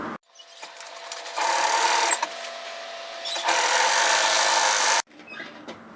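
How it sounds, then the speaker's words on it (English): A sewing machine runs a 1 cm side seam on a puff-sleeve dress, starting and stopping with a short back-tack: loud sustained motor whir in two long bursts, close up, with no talking. "We're going to sew this at 1 centimetre."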